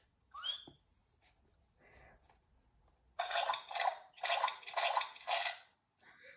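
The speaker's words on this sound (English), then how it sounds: "Everyone is having a wonderful, noisy time jumping and splashing." Bursts of splashing water in quick succession as cartoon pigs jump in muddy puddles, loud and close, after a quieter stretch with a brief high squeal near the start.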